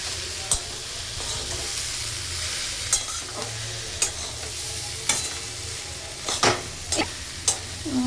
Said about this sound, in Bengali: চলো আর একটু এই কষিয়ে নিয়ে জলটা দিয়ে দেবো।